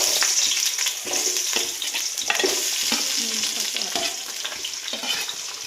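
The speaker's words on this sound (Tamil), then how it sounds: "எண்ணெய் காஞ்சிச்சு. இப்போ வந்து வெங்காயம் போட்டுக்கலாம்." Onions fry in hot oil in a home kitchen with a steady, bright sizzle throughout, broken by soft scraping and stirring sounds at regular intervals, close by and with no talking.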